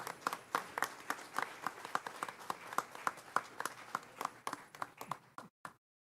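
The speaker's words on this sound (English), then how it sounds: "let's give her a round of applause" Scattered, distinct hand claps from a small board meeting audience applauding a student medalist, fairly quiet and unevenly spaced, then cutting off abruptly near the end.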